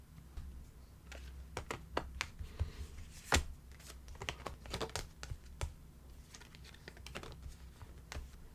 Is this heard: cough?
no